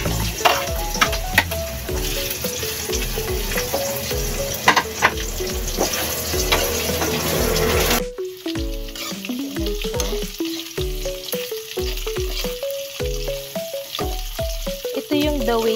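Squid balls, carrots and chayote sizzle and are stirred in a hot pan. A steady frying hiss runs under repeated scraping and clattering of the utensil, with the stirring getting sharper partway through, and no talking.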